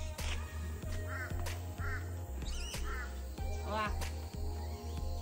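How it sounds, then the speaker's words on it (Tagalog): Crow cawing during a bush walk: several harsh, repeated caws arrive in spaced bursts over a steady low background hum. "Uwak yan."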